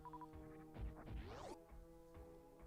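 Glass smashing in Super Metroid, a crisp crash with a bright sweeping shatter over a steady synth background hum, followed by a few faint thumps.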